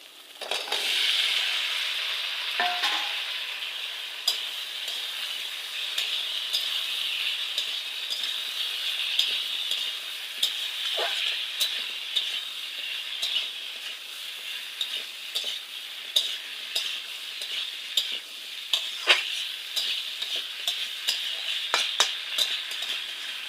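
Chopped vegetables sizzle steadily in a hot pan for a banana curry, with a continuous hiss broken by scattered scraping and clinking as a utensil stirs them, close and moderately loud.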